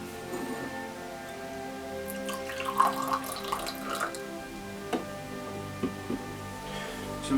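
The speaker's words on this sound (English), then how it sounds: "Let's see what this has to say with the crack and the pour." Juice Voodoo Grape Monster energy drink poured from a can, a continuous liquid gurgle and splash with a few sharp ticks and fizzing, heard close and alone.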